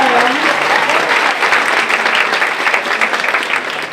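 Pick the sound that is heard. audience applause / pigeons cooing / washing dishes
audience applause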